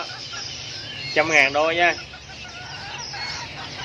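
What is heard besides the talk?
Serama bantam chicken clucking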